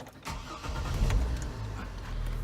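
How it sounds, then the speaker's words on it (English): A 2004 GMC Envoy engine cranks and starts, then settles into a steady low rumble close to the microphone. "So let's start the car up."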